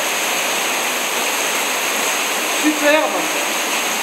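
Steady rushing roar of an underground river and waterfall deep in a cave at the Gouffre de Bellevue, constant and close throughout, with a single brief spoken word near the end.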